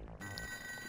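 A telephone rings in the ToeJam & Earl video game, a short, faint electronic bell tone with a sustained ringing shimmer.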